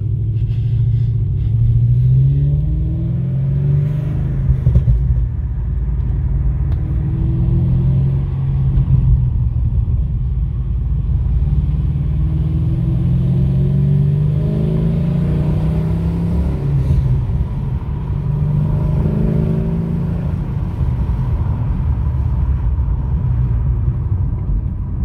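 A 2016 Chevy SS with a manual gearbox rumbles through its engine and exhaust as it is driven, with repeated revving climbs and gear changes over a deep, continuous low drone, close and loud.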